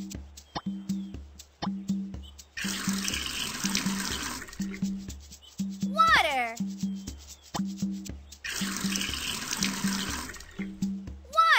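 A tap runs in two bursts of rushing water, each lasting a couple of seconds, set among cartoon speech, music and a rising whistle-like effect.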